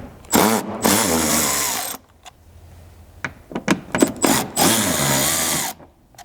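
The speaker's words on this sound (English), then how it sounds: "you're just going to need a T30 Torx driver to get these out of the way." A power driver with a T30 Torx bit spins out screws on a Polaris Ranger dump bed, two loud high whirring bursts, nearby and separated by brief clicks and handling noises.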